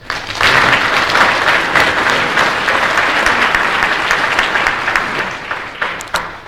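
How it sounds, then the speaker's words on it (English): Audience at a citizenship ceremony in Dublin gives a round of applause, loud sustained clapping from a large crowd that swells in quickly and begins thinning toward the end. "I'd ask you to give him a round of applause"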